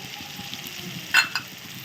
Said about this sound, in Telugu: టమాటా యాడ్ చేసుకున్నాక ఇలా మగ్గుతూ ఉన్నప్పుడు ఇందులో